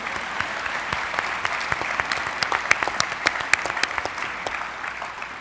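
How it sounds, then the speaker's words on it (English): An audience at a plenary panel applauds with crisp, close clapping in which individual hand claps stand out over a steady bed of applause. "Yes, that does deserve applause."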